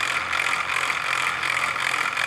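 The motor of a Chinese bead roller crawls at 19% speed, giving a steady, close mechanical whir with a faint rattling texture throughout.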